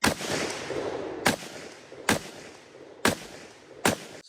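Five sharp gunshots from a Springfield SOCOM-16 .308 battle rifle crack out loud and close, spaced about a second apart, each followed by a brief echoing decay.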